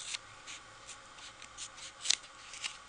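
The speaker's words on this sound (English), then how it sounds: "And we'll just cut that out." Pointy scissors snipping a paper piece for a handmade stamped card, giving quiet, irregular crisp snips and rustles close by with no talking.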